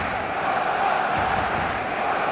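Steady roar of a football stadium crowd in a video game, a dense, continuous wash of distant voices building anticipation before kickoff on match day, with no clear individual shouts standing out.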